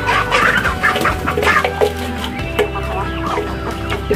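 Free-range village chickens and roosters cluck and call close by in a busy yard, with overlapping clucks and short crowing bursts over a steady low hum.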